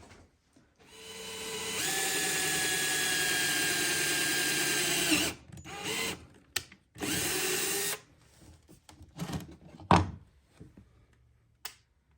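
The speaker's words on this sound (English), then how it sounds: "I'm just going to drill into each one of these holes" A power drill whirs steadily for several seconds while drilling bolt holes to mount a Motor Guide XI3 trolling motor on an Ascend 133x kayak, followed by shorter bursts of drilling and a few knocks and clunks nearby.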